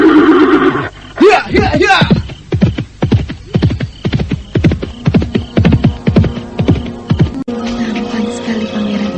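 Horse whinnies in a radio drama set in a royal Javanese tale, followed by a long run of steady clip-clopping hooves with a rider's shouts over it, loud and close, ending in a busier layered scene.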